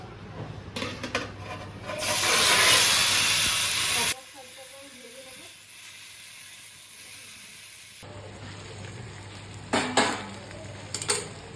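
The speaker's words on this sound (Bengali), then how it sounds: "এখন আমার মাছটাকে কড়াইতে বসিয়ে দিচ্ছি" Hilsa fish frying in a kadai, a loud hissing sizzle for a couple of seconds that drops to a quieter background, followed later by a few pan knocks and a faint hiss.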